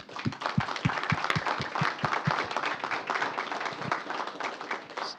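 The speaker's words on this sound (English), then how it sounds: "Let's give them a round of applause for this." City council meeting audience bursts into steady applause that stays full and even for several seconds, a few nearby sharp claps standing out at the start, with no one speaking.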